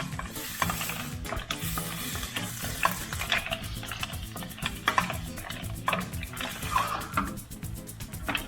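Seafood pasta sauce with tomato cooking on high heat in a pan: continuous bubbling sizzle with frequent stirring scrapes and clicks, fairly close and steady, no voices.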